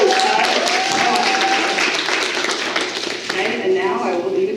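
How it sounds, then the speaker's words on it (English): Audience applause at a campus event celebrating a student club's award, a steady wash of many hands clapping with voices mixed in throughout. "just give a round of applause"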